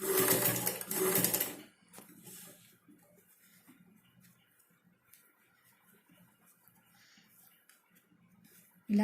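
An electric sewing machine stitching blouse fabric whirs in a loud burst of about two seconds, then goes quiet apart from faint handling noises.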